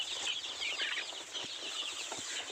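Several chickens, some grown and some small chicks, cluck and squawk continuously at close range on a small poultry farm, a busy overlapping chorus of fowl with no talking.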